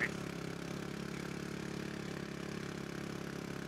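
A petrol generator fitted with a Plasmoid emissions device runs steadily and slightly over-revved, a continuous mid-pitched engine drone with a faint mechanical clatter throughout, holding even loudness from start to finish with no talk.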